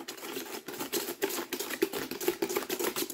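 A spoon stirs saffron into a sweet bread dough mixture for traditional cozonac, making quick, close scraping and tapping strokes against the bowl in a steady uneven rhythm, with no voices.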